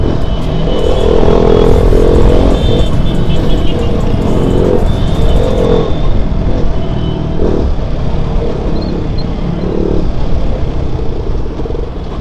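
Motorbikes racing each other along a road, a loud continuous engine roar with wind rush and rattling, close and steady throughout.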